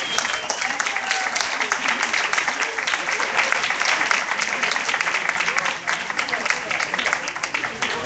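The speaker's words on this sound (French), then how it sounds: "ça vaut la peine de s'applaudir ensemble pour toutes ces échanges." An audience at a World Social Forum session applauds together, steady dense clapping from a large crowd that carries loudly and evenly for several seconds.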